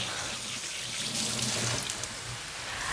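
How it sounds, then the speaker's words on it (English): A kitchen sink tap runs while hands are washed under it, a soft even stream of water with slight splashing swells in the middle, close and steady with no voices. "let me put this in the sink and wash my hands again"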